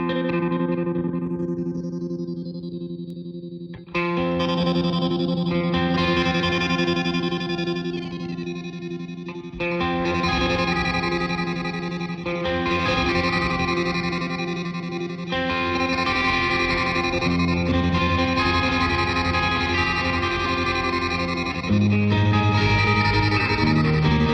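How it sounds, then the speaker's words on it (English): A BOSS DD-500 stereo delay pedal set to a lo-fi reduced sample rate processes played guitar notes and chords, their repeats smeared and gritty with a chorus-like shimmer, ringing continuously and loudly throughout without any talking. "So this is the lo-fi balance, the sample rate we can mess around with. I imagine that really messes up the sound of the repeat."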